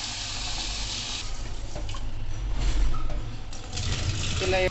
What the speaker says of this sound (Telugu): ఇవి వాటర్తో మంచిగా 3 సార్లు వాష్ చేసుకోవాలండి